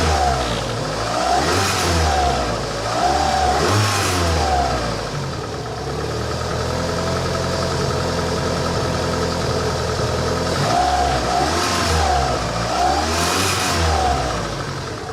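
Engine of a 1985 Honda Accord with 62K miles revving in two bursts at the start and two near the end, settling into a steady, smooth idle in between, heard loud and close with no talking.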